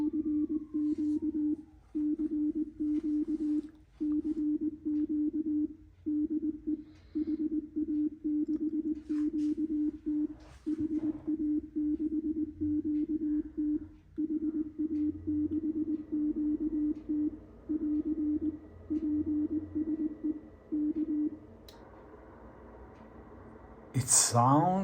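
A ham radio CQ call, likely in Morse, plays through a Yaesu SP30 external speaker on an FT-DX10 transceiver, as a steady stream of bursts repeating over low background hiss, ending in a short loud noise.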